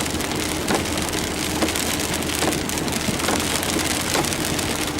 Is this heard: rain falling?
yes